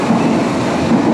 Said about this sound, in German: So, wir fahren jetzt U-Bahn.